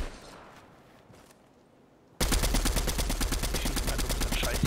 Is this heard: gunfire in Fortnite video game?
yes